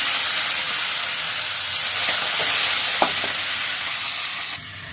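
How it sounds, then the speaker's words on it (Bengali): Fish fry in a pan with a steady, close hiss of sizzling oil, broken by a few sharp spatters and clicks as the pieces are turned and lifted. "মাছগুলো ভাজা হয়ে গেছে, মাছগুলো তুলে নিচ্ছি"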